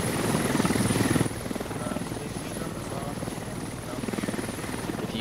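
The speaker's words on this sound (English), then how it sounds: "I have no idea why these helicopters are so ridiculously loud at the moment." Loud, rapid rotor thumping from a helicopter in a video game dominates throughout, pulsing steadily and close, with a voice speaking underneath.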